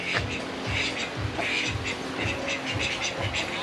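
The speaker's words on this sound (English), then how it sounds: "And we got the ducks." Ducks at a farm in Chiang Mai, Thailand quack repeatedly nearby, a busy run of overlapping quacks.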